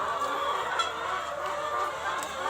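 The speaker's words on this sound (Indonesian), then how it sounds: "ini peternakan ayam petelur." Laying hens on a chicken farm cluck and squawk together in a continuous, busy chorus, with a few louder calls popping out of the steady flock noise.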